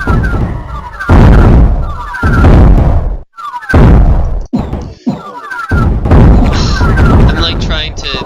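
Loud, repeated booming bursts of cannon and mortar fire in the Sploder video game, several heavy blasts in quick succession separated by short gaps.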